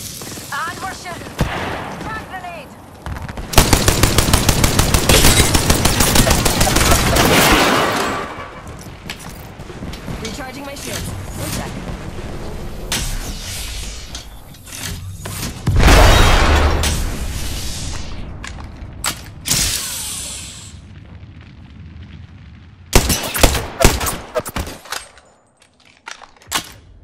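Gunfire in the video game Apex Legends, with loud bursts of rapid shots and booming impacts in several clusters, separated by quieter stretches of game noise and a voice talking.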